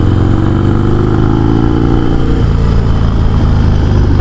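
A Harley-Davidson Sportster motorcycle engine roars loud and close, a thick continuous rumble that holds steady and then shifts in pitch as it revs.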